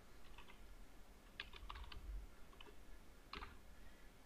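Typing on a computer keyboard while filling a multi-line text field in Adobe Acrobat Pro DC, with soft clustered keystrokes in a few short bursts, fairly close over a quiet room background.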